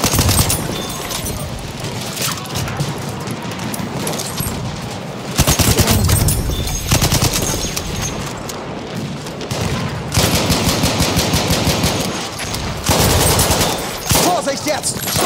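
Enemy machine gun fire in the Battlefield 1 video game, loud sustained bursts of rapid automatic shots with booming impacts, repeating in several long volleys.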